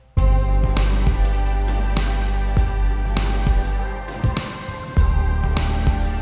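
Electronic drum preset from Audiomodern Paths 1 playing a beat of deep, booming kicks and sharp hits with ringing tonal layers, loud and close, steady for several seconds with no voice.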